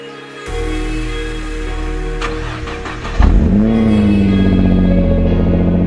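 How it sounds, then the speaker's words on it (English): A Nissan GTR cold-starts with a loud cranking burst, then surges to a high, rising rev that settles into a steady, elevated cold idle close to the microphone. "let's cold start this bad boy and get going."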